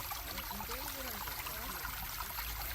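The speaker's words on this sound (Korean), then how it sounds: "물소리 졸졸졸 들리면서" A stream in a winter arboretum trickling and babbling continuously, soft and steady, with faint voices briefly in the background.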